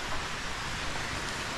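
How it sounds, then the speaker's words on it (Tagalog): Heavy rain pours down in a steady, dense hiss with no breaks, close and moderately loud, the downpour continuing unchanged throughout. "Lakas ng ulan. Narinig nyo ba?"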